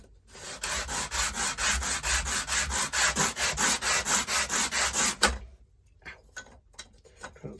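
Rhythmic sanding of wooden guitar top braces, about fourteen even back-and-forth strokes close by and fairly loud, then stopping with a few faint handling taps.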